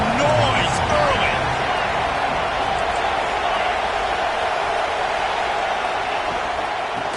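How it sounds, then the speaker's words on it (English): A steady, dense roar from a stadium crowd at an Alabama vs Oklahoma college football game holds throughout, with a commentator's voice running over it. "This crowd bringing the energy and noise early."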